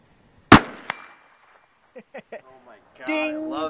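A Tikka T3x rifle fires one sharp, loud close shot followed by a fainter crack, then brief speech and a louder voice.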